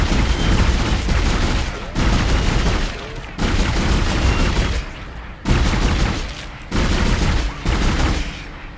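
Heavy gunfire from the video game Dead Space, loud sustained bursts of rapid shots in about six long volleys separated by brief pauses.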